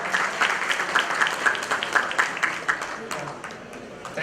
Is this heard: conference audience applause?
yes